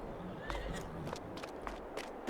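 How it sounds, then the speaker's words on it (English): Horses in Farming Simulator 22 whinnying and stepping, with brief neighs and soft hoof clops over a steady low background hum, moderately faint. "Let's give our horses some hay."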